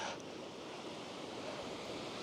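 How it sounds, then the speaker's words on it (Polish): Surf rolling onto a huge beach beneath mountains, a steady broad wash of waves mixed with wind noise, continuous and fairly loud with no voices. "Jest tutaj ogromna plaża."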